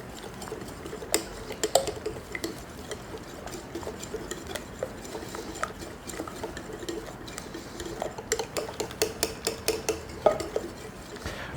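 Buttermilk being stirred into donut batter in a bowl, a soft continuous mixing sound with light clicks of the utensil against the bowl, growing busier toward the end.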